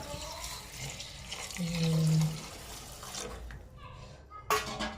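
Water gushes into a pot of tempered khichdi for a couple of seconds, with soft talk and kitchen clinks around it and a brief clatter near the end.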